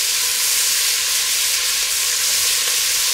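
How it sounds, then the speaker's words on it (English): Onion, celery and pepper fry for a leftover ham and potato soup, a loud, dense, continuous sizzle heard close to the pan with no voices. "Now add the vegetables. Onion goes in. Celery and pepper goes in as well."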